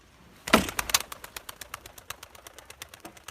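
Pet pigeons close by make a sudden flurry followed by a quick, fading series of rhythmic soft pulses, with no talking.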